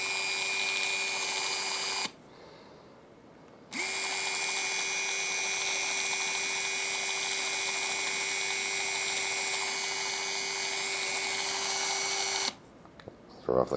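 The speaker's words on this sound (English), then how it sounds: "I'm going to start by activating a Rollease motor here" A Rollease window shade motor whirs with a steady electric hum, running for about two seconds, stopping briefly, then running again for roughly nine seconds before cutting off, close and moderately loud.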